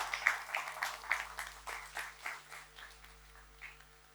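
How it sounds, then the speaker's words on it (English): Audience applause at a press conference launching the trailer of the crime series Bambai Meri, a burst of clapping that fades steadily over a few seconds, moderately distant with no talking. "How do we appreciate it? With a huge round of applause and welcome them."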